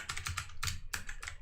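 A few crisp keystrokes are tapped on a computer keyboard to enter a command, close and quiet, in a brief uneven burst with no talk.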